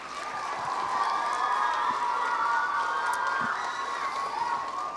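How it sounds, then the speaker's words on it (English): A school assembly audience of children cheers and claps for grade 5 public speakers, a steady, loud crowd roar with shouts rising over it and no clear pauses. "Can we have one more round of applause for the grade 5s?"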